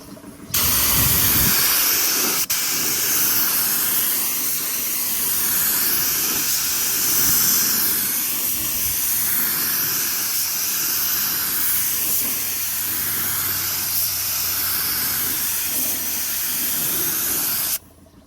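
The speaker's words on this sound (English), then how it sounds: "let's start spraying." Continuous hiss of a spray gun blasting paint on a Mk3 Toyota Supra drift car, loud and close, holding steady for the whole stretch before cutting off abruptly.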